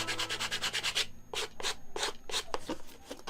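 Sandpaper worked by hand along the edge of a cylinder, a series of close, raspy back-and-forth strokes, a quicker run at first, then slower separate passes with short gaps between.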